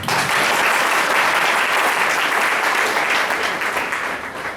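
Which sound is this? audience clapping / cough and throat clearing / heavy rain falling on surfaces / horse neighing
audience clapping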